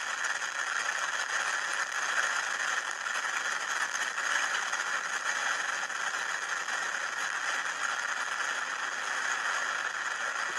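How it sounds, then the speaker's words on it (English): Falcon 9 rocket at liftoff gives a loud, unbroken roar with a rough, crackling rattle that holds steady throughout, with no voices over it. "We have liftoff of the Falcon 9. Falcon 9 has cleared the tower."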